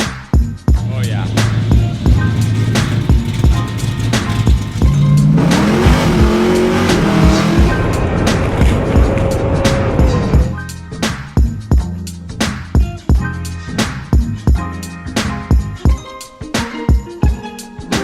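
A 1981 BMW M1 sports car engine, loud and close, revs up and down with rising and falling pitch, then gives way to a run of sharp, rhythmic hits in the second half.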